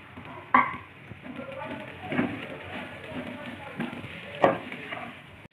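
Shredded chicken stir-fried with sautéed vegetables in a pan for a chicken vegetable soup, giving a soft continuous sizzle with scattered scraping clatters and a few sharper utensil knocks, close and steady with a faint voice underneath.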